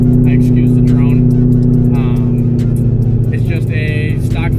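A heavily modified 800+ horsepower supercharged Ford Mustang 5.0 droning loudly from inside the cabin, a steady low exhaust hum that holds throughout, with someone talking over it.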